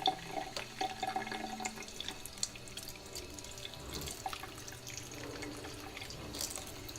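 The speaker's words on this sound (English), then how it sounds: "It makes little channels for the water to run." Water trickles and drips into the gritty soil of a potted succulent with a drainage hole indoors, soft irregular splashes and gurgles up close, faint and uneven.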